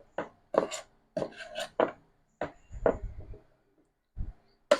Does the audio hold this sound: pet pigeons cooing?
no